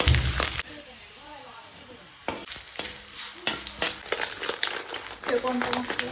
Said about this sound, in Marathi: लसूण आणि अद्रक ते तळून घ्यायचं